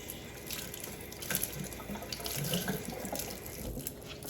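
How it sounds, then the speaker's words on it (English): Warm water runs steadily from a kitchen tap into a sink, a continuous close hiss and patter with slight splashy fluctuations and no talking. "Let me put some more warm water."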